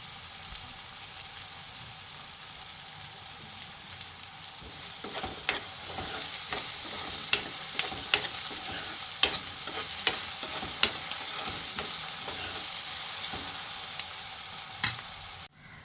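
Chopped onion fries in hot oil in a pan with a little salt for a paneer and potato bhaji, giving a steady close sizzle broken by scattered clacks of stirring, with no talking.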